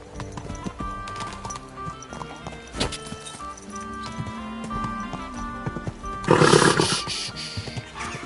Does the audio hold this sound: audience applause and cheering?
no